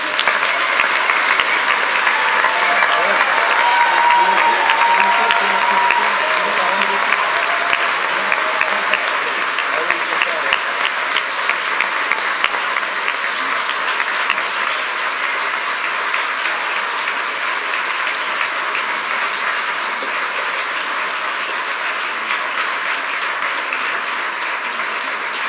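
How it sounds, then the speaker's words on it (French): A church congregation at a farewell Mass for a departing rector at the Notre-Dame du Laus sanctuary breaks into sustained, loud applause that holds steady for nearly half a minute before easing slightly toward the end. "Il mérite des applaudissements quand même."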